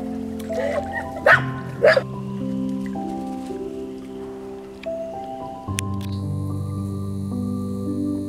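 Two sharp dog barks ring out close by over a steady low hum, followed by quieter thumps and splashy sounds of water, outdoors.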